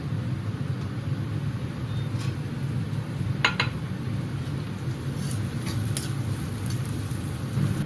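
Peanut pieces dropped into a hot pan of tempering oil with urad dal for upma give a steady, hissing sizzle over a low stove rumble, with a few sharp ticks and crackles partway through.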